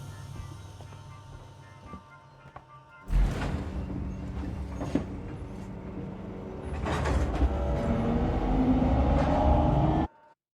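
A tram arrives at a station on the Sevastopol Transit in the video game Alien: Isolation. After a quiet hum, a loud mechanical rumble bursts in, with clanks and hissing surges building louder before cutting off abruptly.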